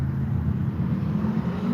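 A car engine idles and hums low in a parking lot, a steady moderately loud rumble with no clear revs rising above it.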